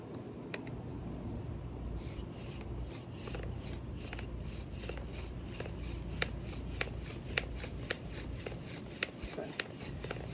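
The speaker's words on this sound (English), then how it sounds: "I'm going to go ultra light on the pressure and try to go really fast with the RPMs of the spindle." A wooden spindle spun very fast with ultra-light pressure in a friction fire set in the desert makes a steady, close, raspy rubbing whir, broken by a rhythmic series of faint squeaks and clicks.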